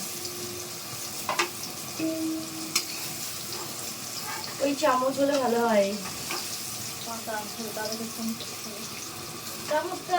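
Sweet pumpkin slices frying in oil in a pan give a soft, steady sizzle, with stirring and scraping noises and clear speech heard over it.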